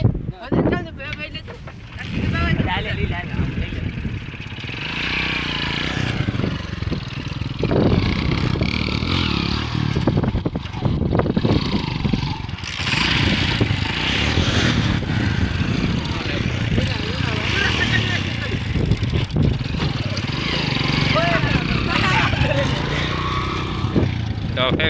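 A car driven by a learner runs with a steady engine drone and heavy wind buffeting throughout, while people talk over it.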